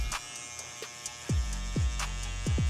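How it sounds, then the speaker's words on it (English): Electric hair trimmer buzzing at a barbershop while clearing the bottom hair for a mid fade, a close steady motor hum broken by several short clicks and repeated contact passes. "I'm done using my trimmer in that forward position, I'm gonna go ahead and start removing the bottom hair"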